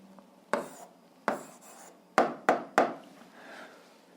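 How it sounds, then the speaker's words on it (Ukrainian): Pen or chalk strokes writing out an answer to an eighth-grade algebra fraction problem, five sharp separate scratches and taps with pauses between them, close and fairly quiet, no talking. "записуємо відповідь, пишемо відповідь"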